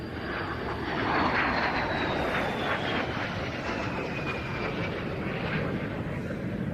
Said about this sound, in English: we just heard that very unique sound from the power plant. That's a de Havilland Goblin 3, a centrifugal turbojet